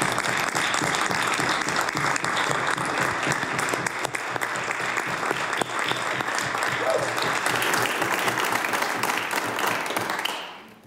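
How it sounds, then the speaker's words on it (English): Members of a House of Assembly applaud chiefs seated in the gallery, giving a loud, dense round of clapping that fills the chamber steadily for several seconds before quickly fading out. "I was going to say if the members could give them applause, but they've done that"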